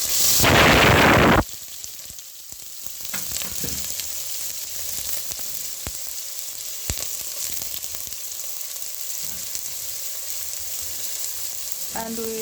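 Onions are dropped into hot oil for cooking mung beans, starting with a loud burst of crackling that settles into a steady close sizzle with occasional pops and stirring clicks, with no voices.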